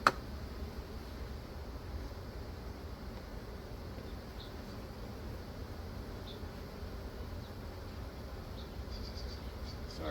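Honeybees hum steadily around an open hive during a summer bee check, a low continuous buzz with faint higher whines of individual bees drifting close, with no talking.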